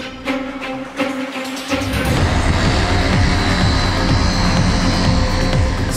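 A manned racing drone flying car, built from an F1 car merged with a racing drone, roars in flight with a loud, steady high-pitched engine and rotor drone that swells in after a quieter start.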